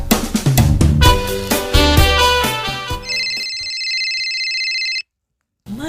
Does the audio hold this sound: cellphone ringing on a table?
yes